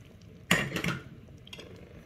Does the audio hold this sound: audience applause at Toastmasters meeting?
no